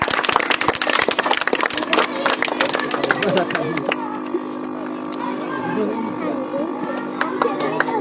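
An audience claps together at a championship prize-giving. The applause is steady and fairly loud, dense at first and then thinning into a softer, sustained patter, with some voices mixed in.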